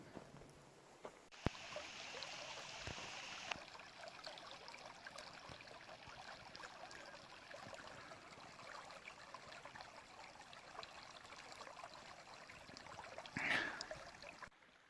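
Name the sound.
river stream flowing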